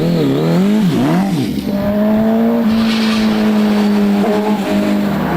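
An MV Agusta Brutale motorcycle engine revs loud and close, climbing and dipping in pitch through several throttle blips before holding a steady high drone, then blipping again, with no talk.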